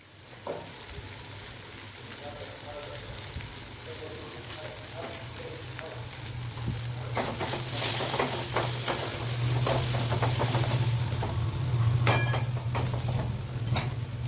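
Egg tadka sizzles loudly in a hot pan as tadka masala is added, a dense crackling fry that grows busier with sharp spatters and occasional stirring scrapes.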